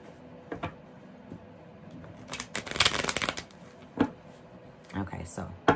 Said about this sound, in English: let's give these two more shuffles and we'll get on with your reading